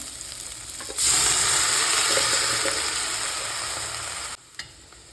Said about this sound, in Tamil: வெங்காயம் வதங்கட்டும். இப்போ வேக வச்சுருக்க பீட்ரூட் சேர்த்துக்கலாம்.